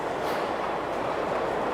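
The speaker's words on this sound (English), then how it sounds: "we'll follow this freight train down the line" A miniature freight train runs on a 5-inch gauge railway. Its steady, fairly loud rumble and rolling noise continue unbroken, with no talking.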